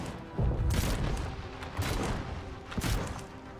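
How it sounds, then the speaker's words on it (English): Explosive cannons on a large creation in the Trailmakers video game fire in a rapid fusillade of booming thumps, several heavy blasts overlapping in quick succession, loud and close. "They are explosive cannons. They go bada bing, bada boom."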